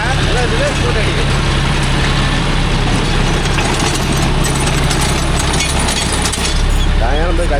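A John Deere 5050D tractor running a rotavator on farmland, its engine revved hard in a loud, steady, continuous roar with voices talking over it.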